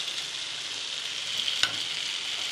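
Blended spinach puree for palak paneer sizzles steadily in a hot pan, with a single sharp scrape of the stirring spoon partway through.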